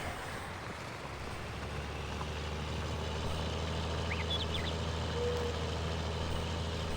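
Tractor plowing a field in Farming Simulator 19 on the Pacific Northwest map, with a diesel engine giving a steady, unbroken low drone at moderate level for the whole stretch, no talking.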